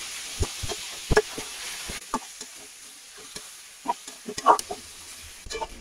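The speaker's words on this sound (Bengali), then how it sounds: "আমি একদম লাল লাল করে পেঁয়াজটা ভেজে নিয়েছি, এখন মুরগির মাংসটা দিয়ে দেবো" Chicken pieces fry with browned onions over high heat, giving a low steady sizzle under scattered sharp taps and scrapes of a spatula in the pan, close and moderately loud.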